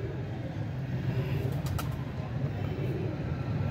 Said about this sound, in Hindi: आज मलिक साहब के हमने कबूतरों का शौक कराया, नायाब कबूतरों का माशाल्लाह हीरा लाल ब्रीड का।